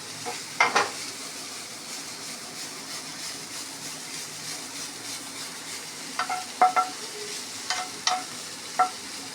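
Broccoli pepper fry stirred in a hot pan, a steady low sizzle broken by scattered scraping clinks of the spatula, clustered near the start and again toward the end.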